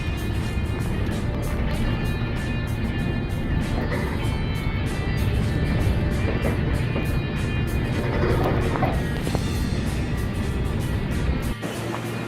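A Scania R 500 V8 truck pulling away lightly loaded, a steady loud engine drone heard from inside the cab that holds constant throughout, with a faint voice in the background.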